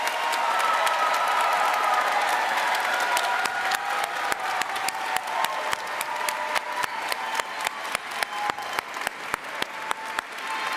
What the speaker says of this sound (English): one last time, a round of applause for our graduates